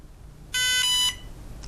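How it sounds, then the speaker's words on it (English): An RC plane's Cobra ESC gives a clear electronic tone, a sustained beep about half a second long that shifts pitch partway through, alone in a quiet room. "So that's a double beep, confirming that it's all set."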